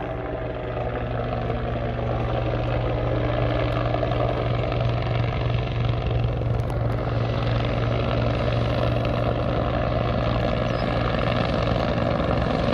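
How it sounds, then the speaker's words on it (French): A helicopter drones steadily overhead along the Spanish coast, its rotor thudding in a loud, constant rhythmic chop that holds throughout without fading. "Voilà l'hélico."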